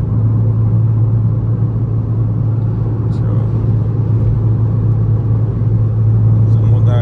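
Toyota Corolla engine while driving, a steady loud low rumble with a constant engine hum and road noise, heard from inside the car with someone talking over it.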